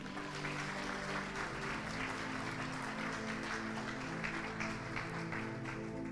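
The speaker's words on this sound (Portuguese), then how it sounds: "Uma salva de palmas ao Senhor." Congregation in a church service clapping together in sustained, steady applause, a dense wash of hands filling the space throughout with no break.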